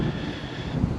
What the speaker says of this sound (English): It's very windy and very cold.